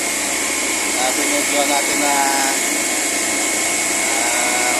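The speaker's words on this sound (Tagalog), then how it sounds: "malakas yung ingay at abnormal yung kanyang operation dahil na nagkakaproblema yung injection ng liquid." Loud, steady mechanical roar of a blast freezer running abnormally from a liquid injection fault, with a high whining tone, while someone talks over it.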